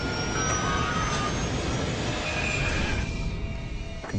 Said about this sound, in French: Le moteur droit augmentait vraiment de puissance.